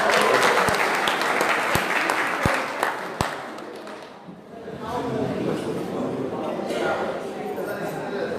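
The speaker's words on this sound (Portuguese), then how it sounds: "Palmas." An audience at a lecture on magnetism and spiritism applauds three performers: a few sharp, close claps ring out over dense clapping, which dips briefly and then continues more softly as a mix of claps and murmur.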